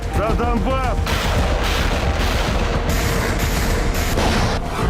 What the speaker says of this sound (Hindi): इसलिए रूस ने फिर यहां मिसाइल से हमला किया।